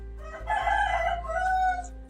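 A rooster crows once, loud and close, its drawn-out call sounding over a low steady hum.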